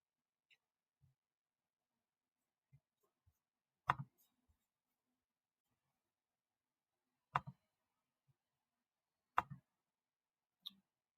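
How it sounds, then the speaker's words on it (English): A computer mouse gives a few faint, sparse clicks, mostly single and some in quick pairs, spaced several seconds apart in a quiet room. "I'm going to click on this really quickly and show you an example"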